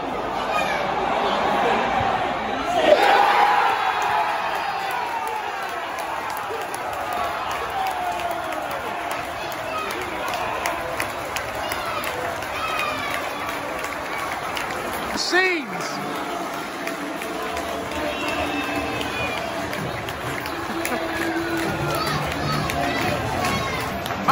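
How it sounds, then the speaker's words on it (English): A football crowd roars and chatters at a record-attendance Yeovil Town match against Weymouth on a wet, rainy night, a dense sustained wash of cheering with nearby voices talking throughout. "Fans have gone mental. Players jumping into the crowd."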